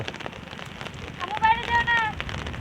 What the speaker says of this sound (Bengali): এ বৃষ্টি তো আবার জোরে নামলো